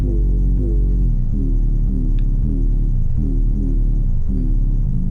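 An unprocessed 808 bass line for a school music project: deep, loud sliding bass notes that repeat in a steady pattern, with no voices over them.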